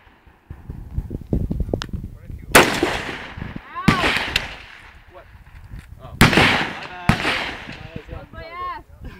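Four loud, sharp reports from a real gun fired at a shooting range, each cracking out and ringing away into the open space, spaced a second or two apart, with voices talking between shots.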